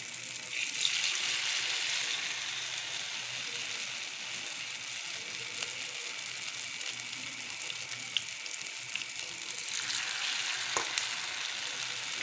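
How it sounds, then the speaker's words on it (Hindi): Battered okra (bhindi) fries in hot oil, giving a steady, close crackling sizzle with scattered pops and faint stirring clicks throughout. "अब इस तरीके से भिंडी को इसमें डिप करके फ्राई करेंगे।"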